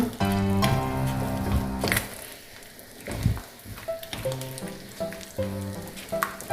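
Thick sabudana halwa with added ghee is stirred in a pan, with soft bubbling sizzle, scattered wet slaps and several spoon scrapes against the metal, nearby and moderately loud, with no talking.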